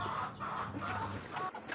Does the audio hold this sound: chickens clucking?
yes